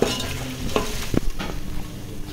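Tempering with coconut powder frying in a pan for gongura mutton, a steady close sizzle broken by a few clinks and stirring scrapes, with no voices.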